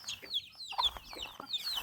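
Several chickens cluck and squawk nearby in repeated, uneven bursts, fairly faint, with no talking over them.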